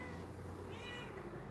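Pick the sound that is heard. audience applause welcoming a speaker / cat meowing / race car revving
cat meowing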